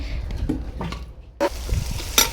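Onions fry in ghee in a kadai, a close hiss with a few scraping stirs of a spoon against the pan.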